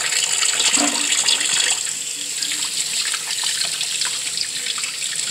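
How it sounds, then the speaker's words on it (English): Hands are washed under a running kitchen tap while cooking, a loud steady gush of water with splashing and rubbing that eases slightly partway through and goes on without talk. "So let me just wash my hands"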